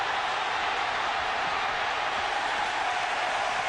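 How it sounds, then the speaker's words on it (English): Stadium fans at a 2009 Oklahoma versus Miami college football game keep up a dense, loud, continuous cheer, a broad wash of massed voices that holds evenly from start to end. "now the crowd has something to be excited about"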